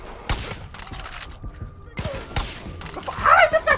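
Gunfire crackles in a Far Cry 5 firefight, sharp bursts of shots scattered across the moment with brief gaps, mixed with game voices and shouting.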